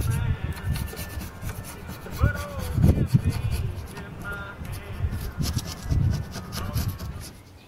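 Abrasive paper rubbed around the valve seat inside the cylinder head of a Simplicity VA walk-behind tractor engine, making a steady raspy scrubbing with faint metallic squeaks, close and moderately loud throughout.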